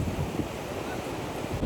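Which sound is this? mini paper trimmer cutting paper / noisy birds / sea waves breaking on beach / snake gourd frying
sea waves breaking on beach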